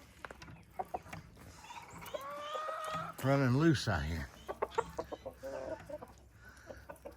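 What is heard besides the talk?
guinea fowl and roosters calling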